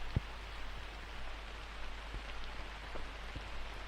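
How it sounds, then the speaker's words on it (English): Steady rain falls on a disc golf course in Finland during a women's pro round at the Turku Open, a continuous even hiss with a few scattered louder drop taps, no voices present. "Seemingly enjoying her time in the Finnish rain."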